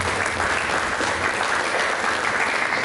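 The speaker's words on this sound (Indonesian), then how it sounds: "Berikan tepuk tangan." A church congregation applauds during a pastor's sermon, a dense, steady wash of many hands clapping at full volume throughout, with no pauses.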